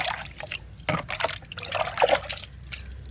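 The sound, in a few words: water poured into a large bucket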